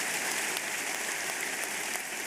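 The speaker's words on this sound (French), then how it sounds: "Come on, give the Lord a big hand." A church congregation applauds in a sustained, dense clatter of many hands clapping at once, steady and moderately loud with no speech over it.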